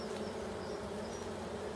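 Honeybees in a beehive, a steady close-up buzzing drone of many insects holding evenly for the whole stretch, with no voices over it.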